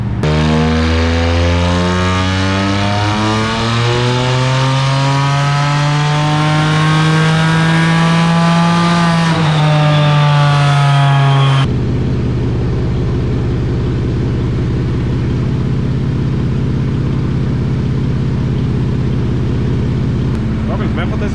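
A BMW E90 335 engine is revved under test, its pitch climbing and holding high for about eleven seconds before cutting abruptly to a lower, steadier engine drone.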